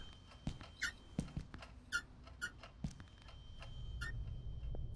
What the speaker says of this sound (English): I hear squeaking on the other side.